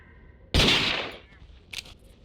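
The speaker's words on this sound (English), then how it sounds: "A nice shot with the Tundra Eagle just to finish it off" A single loud gunshot from the Tundra Eagle rifle in the hunting game Carnivores Far North, a sharp crack with a decaying tail, followed by a faint brief click.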